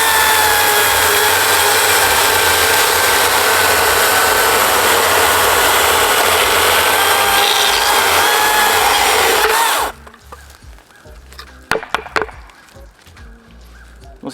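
An EGO 16-inch 56V brushless chainsaw cuts through wood in a steady, loud whine that holds for about ten seconds, then stops abruptly, leaving scattered clunks and small handling noises.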